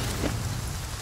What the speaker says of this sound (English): Hopefully the rain will go away.